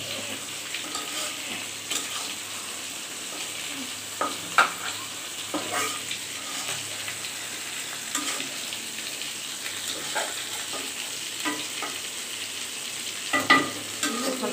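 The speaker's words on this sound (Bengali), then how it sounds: "ফেটানো ডিমটা দিয়ে দিলাম। তারপর নাড়িয়ে চাড়িয়ে" Beaten egg frying with ridge gourd in a pan while it is stirred, a steady sizzle beneath scattered scraping and clinking from the spatula against the pan, with no voices.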